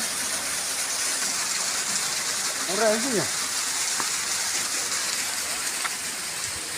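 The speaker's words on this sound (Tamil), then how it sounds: "கிணத்துல தண்ணி இருபத்தி நாலு மணி நேரம் இதே மாதிரி உழுவுங்க" Water gushes nonstop into a well on farmland, a steady loud rushing flow throughout, with a short burst of speech partway through.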